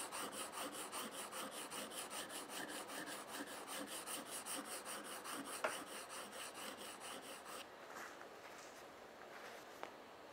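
Steady rasping strokes of a file or sandpaper taking a bevel off an edge, a continuous rhythmic scraping that runs close and fairly loud, easing off in the final seconds with a couple of sharp clicks.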